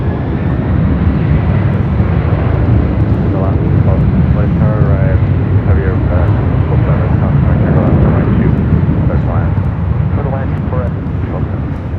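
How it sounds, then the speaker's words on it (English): A Delta Boeing 767 takes off from runway 24 Left at LAX, a loud, steady jet engine roar with wind buffeting close to the microphone, while a person talks over it throughout. "Got a Delta 767 now taking off on 24 left"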